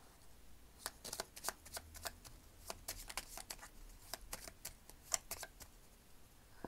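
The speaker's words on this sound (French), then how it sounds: "je vais bien mélanger" Small Lenormand cards shuffled by hand in a quiet room, a close, fairly soft run of quick papery riffles and slaps that comes in irregular bursts, with no talking.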